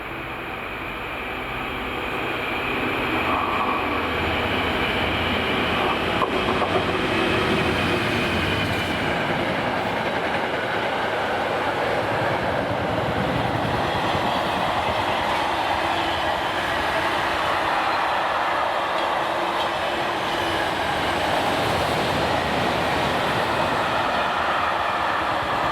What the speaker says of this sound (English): Dagenham to Mossen loaded car and van train with 66067, passing at around